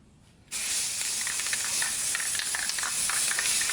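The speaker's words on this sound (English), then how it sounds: "This will be the 3rd coat of paint, and this will be very light." Aerosol spray paint hisses steadily and close for about three seconds, laying a very light third coat onto a part for a Honda CTX700N motorcycle light install, with no talking.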